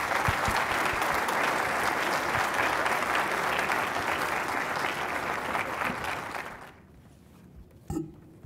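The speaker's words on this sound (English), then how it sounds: "So let's give our panelists a round of applause." A conference audience gives a panel a dense, sustained round of applause that fades out after about seven seconds, followed by a brief thump in the quiet.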